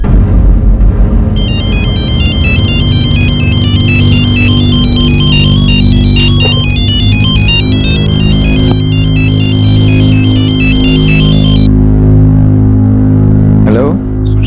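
An incoming call on a telephone sets off a loud, continuous electronic ringtone in a repeating melodic pattern over a low musical drone, cutting off just before the end.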